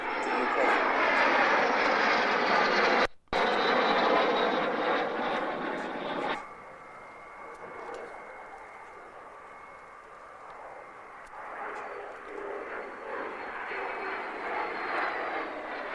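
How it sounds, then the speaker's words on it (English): An aircraft flying at an air display produces a loud, sustained engine roar that swells and fades as it passes, with a brief dropout, and a voice speaking over it. "It's the aircraft that we're interested in."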